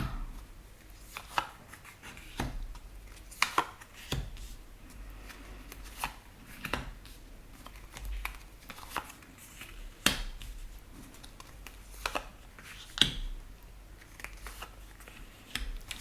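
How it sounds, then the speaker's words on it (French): Tarot cards are laid out one by one for a nine-card spread, giving soft, close snaps and slaps on a table at irregular intervals over a quiet background, with no talking. "on va faire un tirage en 9 cartes. Donc, le temps de placer les cartes."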